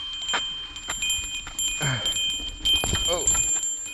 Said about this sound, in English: See how the bell works?